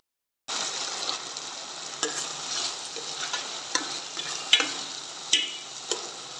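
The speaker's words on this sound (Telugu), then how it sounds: "నూనెలో ఇలా బాగా పచ్చివాసన పోయేదాకా వేపుకోవాలి" Ginger garlic paste sizzles and fries in hot oil while being stirred for a chicken curry, with onions, green chillies and tomatoes already softened in the pan; a steady close crackle broken by sharp spoon clicks and scrapes against the pot.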